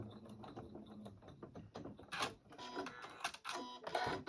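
A sewing machine stitches a poinsettia table runner in soft, quick mechanical runs of clicks and whirs, stopping and restarting in short bursts at close range.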